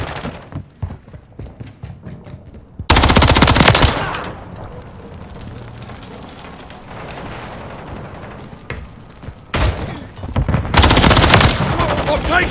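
Bursts of automatic gunfire in a Call of Duty: Modern Warfare 3 team deathmatch, loud sustained volleys alternating with quieter stretches of footsteps and scattered shots, with game voice callouts in between.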